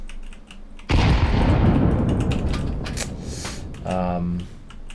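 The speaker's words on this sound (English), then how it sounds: "Both of you throw a nade like so." Grenades thrown on the Vertigo map in Counter-Strike: a sudden loud burst of noise that decays over a few seconds, with clicks and a brief tonal sound, while a voice talks over it.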